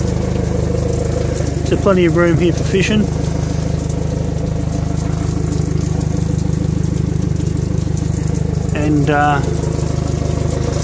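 A Suzuki DF90 outboard motor on a 2009 Stessco FS540 bowrider idles out of the water, giving a steady, loud mechanical drone throughout while someone talks over it.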